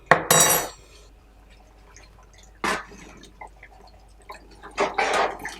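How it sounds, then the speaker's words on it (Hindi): Water poured into a large pot of beef korma with turmeric in it, cooked at a 10 kg batch scale: splashing liquid bursts near the start, a short gush midway, and a longer pour near the end, with quiet clinks between. "पानी डाल लेते हैं।"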